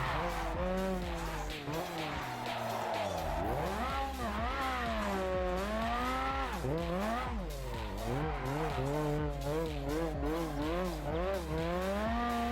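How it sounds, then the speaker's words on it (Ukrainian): Car drifting on slick racing tires in Japanese Drift Master, with steady loud tire squeal and skidding layered over a rising and falling engine whine, continuous and close. "Бачите, він, вона зривається і на цій резині в дрифт."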